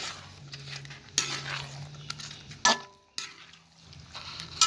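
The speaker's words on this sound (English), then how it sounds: "we add our beans" Soya beans tipped into a metal cooking pot for a stew, with clattering spoon-and-pot knocks, scraping stirs and a few sharp metallic clinks, close and fairly loud.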